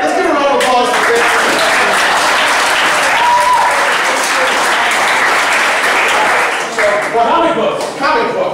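A studio audience on a comedy talk show bursts into loud, sustained applause, dense clapping filling the room for several seconds before tapering slightly near the end.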